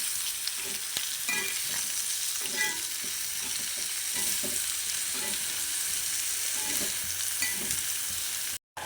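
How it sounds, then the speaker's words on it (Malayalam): Salted chicken fries in a pan with a steady, close sizzle, while a spoon stirs it and sends up scraping and clinking sounds at irregular moments. Near the end the sound cuts off abruptly. "കുറച്ച് ആവശ്യത്തിന് ഉപ്പ് ചേർത്തിട്ട് നമുക്ക് നന്നായി ഒന്ന് മിക്സ് ചെയ്ത് കൊടുക്കാം"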